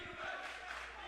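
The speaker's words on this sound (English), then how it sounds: "Crowd chanting defense." Basketball crowd noise in a packed gym during a Windham at Merrimack game, a steady roar of many voices rising into a chanted call for defense, broad and sustained for about a second.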